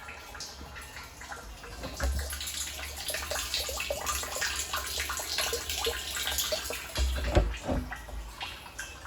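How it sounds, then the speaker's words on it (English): Steady rainwater running into a garden water butt splashes and trickles, a continuous close rushing with occasional low thumps. "I can hear the water butt actually."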